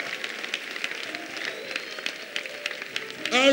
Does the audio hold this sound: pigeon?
no